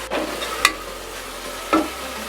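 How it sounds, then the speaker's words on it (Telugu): Chopped tomato pieces go into a hot pan for a pressure-cooker potato curry: a soft, steady sizzle with two sharp spoon clinks against the pan. "ఇప్పుడు దీంట్లో టమాటా ముక్కలు యాడ్ చేసుకుందాం"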